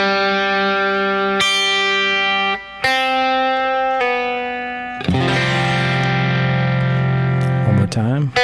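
Electric guitar with effects playing an open string, then single notes and a pull-off into a chord, slowly; separate plucked notes ring out, followed by a full sustained strum near the end.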